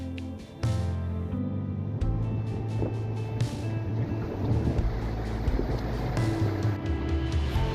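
A boat cruises along the sheltered Melaleuca Inlet waterway, its steady engine drone loud and continuous with wind buffeting the microphone throughout.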